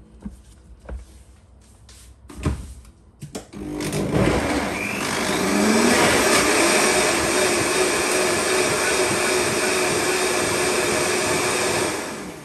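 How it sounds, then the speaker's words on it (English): A blender whirs loudly, blending sun-dried tomatoes and olives for a raw vegan savoury stew, kicking in after a few knocks and running as a steady high motor drone for several seconds before winding down. "I'm going to go blend it in the blender"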